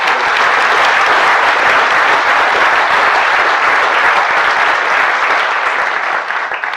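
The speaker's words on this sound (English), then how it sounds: "So let's just give him a round of applause." A large audience at a Bird Photographer of the Year awards ceremony applauds loudly and steadily for several seconds, the clapping thinning out slightly at the very end.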